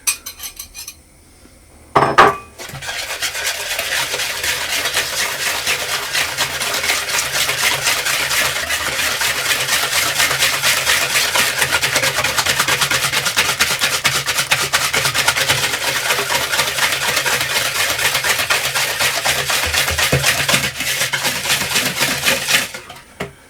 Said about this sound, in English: I'm going to whisk those together until they're fully combined